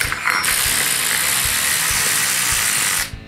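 A cordless driver fitted with a 3/16 Allen bit runs a bolt into the spark arrestor of a CFMoto ZForce 1000 Attitude Industries exhaust, giving one steady, loud ratcheting whir for about three seconds, with no talking.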